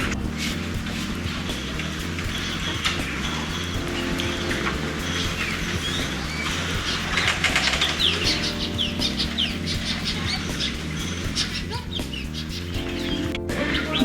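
Several birds chirp and call around a busy outdoor space at a wildlife resort in Bandipur forest, India, with clucking and fluttering sounds over a low background hum.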